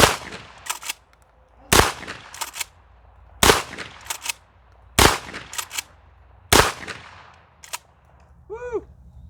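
Kel-Tec KS7 pump shotgun fired on an outdoor range: five loud, sharp blasts spaced about every one to two seconds, each followed by a short ringing decay and some handling noise between shots.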